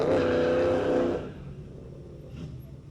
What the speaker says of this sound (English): And the old Jeep. He made a lot of noise during the show.